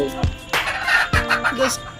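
Hobby chickens cluck in short, loud, close calls, a few bursts spaced across two seconds with small squawks between them.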